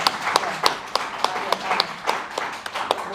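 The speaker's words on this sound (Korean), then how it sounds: "박수 한번" Clapping from a church congregation during a Sunday service, a loose run of individual claps in an uneven rhythm, moderately near, with faint voices underneath.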